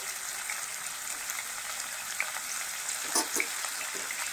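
Cut pieces of two large potatoes frying in oil with salt added, giving a steady, moderate sizzle throughout with a few brief louder crackles and pops near the end.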